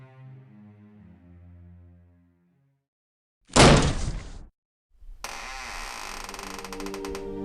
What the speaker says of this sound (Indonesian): Lalu ia mendobrak pintu kamar nenek.